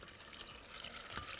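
Water pours steadily into a pot for making Ramadan juices such as tamarind or hibiscus, a faint, even rushing splash lasting a moment with no talk over it.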